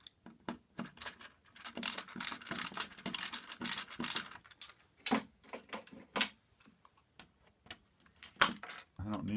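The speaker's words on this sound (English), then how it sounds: "So I am just unscrewing these wires here." Wires being unscrewed from the connector box of an Evergreen solar panel that sat on a roof for ten years: a run of small, close metallic clicks and ratcheting ticks in an uneven rhythm, moderately quiet.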